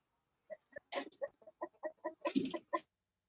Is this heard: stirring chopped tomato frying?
no